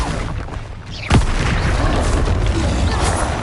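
A spell explosion in the Hogwarts Legacy video game erupts as a sudden booming blast amid ongoing combat noise, with a dense rumbling wash continuing after the hit.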